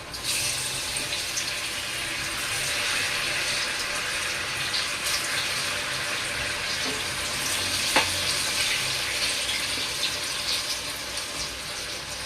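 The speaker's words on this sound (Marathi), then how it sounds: "आणि आता आपण याला फ्राय करून घेऊया." Alu vadi (colocasia rolls) frying in oil, a steady broadband hiss and crackle that runs the whole time at even loudness, with one sharp pop near the end.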